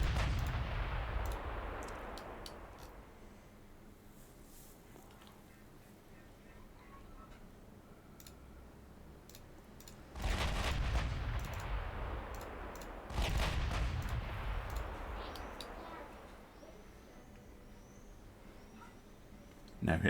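Heavy naval guns boom in a video game, US campaign; two big broadband bursts land mid-clip after a fading opening blast, with quieter background between them.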